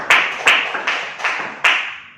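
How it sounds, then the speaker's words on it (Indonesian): A few people in a classroom clap their hands, giving about five sharp, separate claps in an uneven rhythm, close by and moderately loud, with no talking over them. "Tepuk tangan buat Mas Diwan dan Mas Andika ya."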